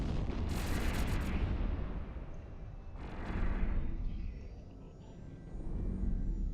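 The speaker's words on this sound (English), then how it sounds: "Just a pretty explosion." Deep rumbling explosions in a video game boom and roll in a couple of waves, each swelling and fading into a sustained low roar.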